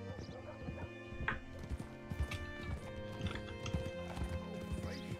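Horse hooves clip-clop steadily at a trot in a Red Dead Redemption 2 ride through the Lemoyne countryside, a rhythmic stream of hoofbeats running throughout, with a brief neigh rising above them partway through.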